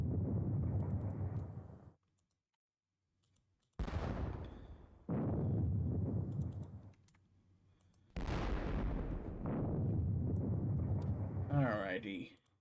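Heavy booms and rumbling blasts of Civil War artillery fire sound in a Gettysburg wargame, several long roaring bursts separated by short silences, loud and close with no speech over them.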